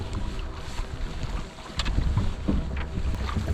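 A canoe is paddled across a windy lake in the Adirondack wilderness, with soft splashes and water sloshing under steady gusts of wind buffeting the microphone, and no one talking.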